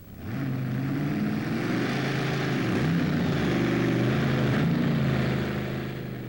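A tractor-pulling machine in the lighter 3.4 tonne class, powered by stacked engines, roars steadily and loudly throughout, its engine pitch wavering and shifting as it pulls, with no talk over it.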